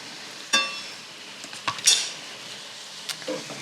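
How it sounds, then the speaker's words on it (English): Freshly chopped garlic hits a hot pan with a soft sizzle, joined by a few clinks of utensils against the pan and brief scraping as it is stirred, close and fairly quiet. "now let's add our fresh garlic to the pan"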